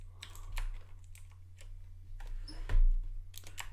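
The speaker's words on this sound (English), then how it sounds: "I just had to move the keyboard out" A computer keyboard is shifted and handled at a desk, with scattered clicks, knocks and a louder thump near the end over a low steady hum; no voices.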